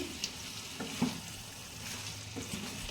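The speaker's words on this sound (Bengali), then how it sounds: "তো এটা এখন ভালো করে আমি এখন নেড়ে নিচ্ছি" Spiced mutton being stirred in a pan, soft scraping and stirring strokes with a faint sizzle underneath, quiet and close, a few distinct knocks of the spoon.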